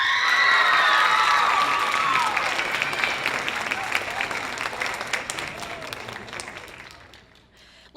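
A talent show audience breaks into loud applause with cheering and children shouting, the clapping strong at first and gradually thinning out toward the end.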